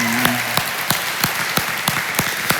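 A church audience claps for Kaylee, a loud room full of applause with sharp, evenly spaced beats standing out as the crowd falls into rhythmic clapping.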